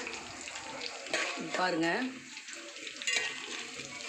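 Curry leaves frying in a tempering for lemon rice, a steady close sizzle with a spoon stirring and scraping the pan, while a voice speaks over it.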